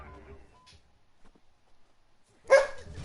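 A single loud dog bark bursts out near the end after a quiet stretch of soft game-like ambience, heard alone and close.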